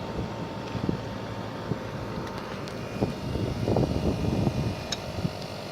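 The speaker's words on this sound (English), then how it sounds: "The compressor is still working." A Daikin 2-ton mini split compressor with a welded contactor runs outdoors. It gives a steady low mechanical drone with a broad fan-like whoosh, heard close and continuous, with slight swells and faint scattered clicks.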